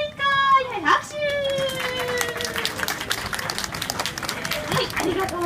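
Audience applause and clapping at a Kumamon rock-paper-scissors event in a department store food hall, a steady crowd clatter with children's voices mixed in throughout.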